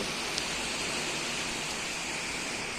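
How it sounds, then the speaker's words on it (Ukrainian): Steady rain falls at Tustan fortress, a dense even hiss of drops with no distinct pattern, continuous and moderately loud throughout with no talking. "Ну, дощ, коротше, йде."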